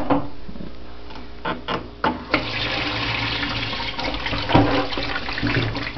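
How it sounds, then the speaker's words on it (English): A kitchen sink tap runs into an ice cube tray in an apartment, a steady close-up gush of water with a few clunks and knocks at the start; no speech. "Let's put water in the ice cube tray."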